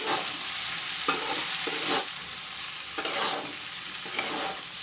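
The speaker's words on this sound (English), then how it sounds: "Mix it well. Stir it well." Okra (bhindi) and potatoes seasoned with Kashmiri red chili powder sizzle steadily in a pan while a utensil stirs them, with several distinct scraping strokes over the constant close hiss of oil.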